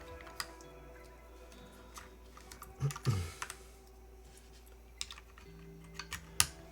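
Keys clack on a Frog Leggera mechanical keyboard in scattered, irregular presses, with a few sharper louder taps and a short cluster near the middle over a faint background hum, and no talking.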